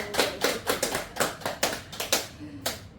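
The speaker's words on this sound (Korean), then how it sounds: "박수 한번 칠까요?" Small gathering of worshippers at a Buddhist dharma talk clapping in unison, about ten sharp, evenly spaced claps close by, then a short cheer.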